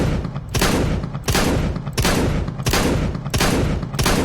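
Repeated shotgun blasts from Counter-Strike 2, about six loud booming shots spaced roughly every 0.7 seconds, each followed by a sustained noisy tail that fills the gaps, with no voices.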